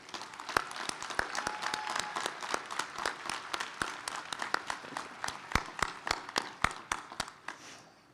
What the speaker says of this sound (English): Let's give the sisters a rousing round of applause, please.